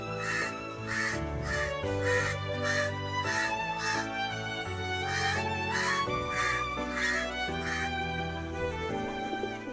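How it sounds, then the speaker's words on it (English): A crow caws in a steady series of loud, harsh calls, repeated every half second or so, set over a continuous musical background throughout. "Crow."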